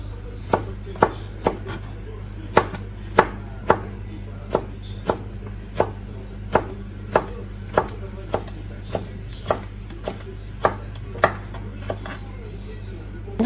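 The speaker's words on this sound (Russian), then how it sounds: "Я его нарезаю вот такими пластиночками." Steady knife chops slicing beef into thin strips on a cutting board, about one or two strokes per second, crisp and close, with a low constant hum underneath.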